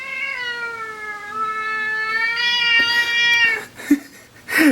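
An angry cat lets out a long, rising caterwaul that wavers and breaks into shorter yowls, up close and clear, with a few brief noises near the end.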